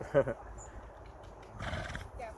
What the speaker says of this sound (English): If you hear that noise, it's the horses, you know, being horses.